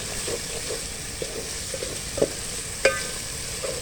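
Mixed vegetable curry sizzles steadily in a pan while a spoon stirs it, giving soft scraping strokes and a couple of sharper clinks over the continuous frying hiss, close and moderately quiet.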